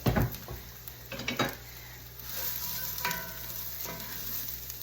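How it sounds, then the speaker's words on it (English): Diced eggplant hits hot oil in a skillet with a rising sizzle and frying hiss, broken by scraping stirs and clinks of a utensil against the pan, close and steady. "We are going to add the eggplant that we diced up into the skillet"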